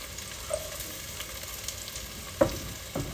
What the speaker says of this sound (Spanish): aquí voy a estar pasando a dorar nuestra cebolla y nuestro chile